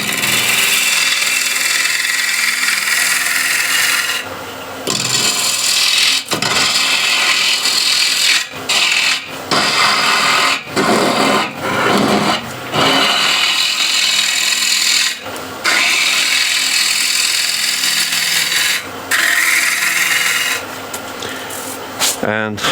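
A ball gouge cuts into a wooden bowl spinning on a wood lathe at 1200 RPM, giving a loud, hissing, scraping rasp in repeated passes separated by short pauses.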